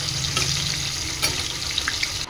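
Green chili sizzles and crackles in hot hilsa fish oil, a steady, close frying hiss with small pops. Brief and alone, with no speech.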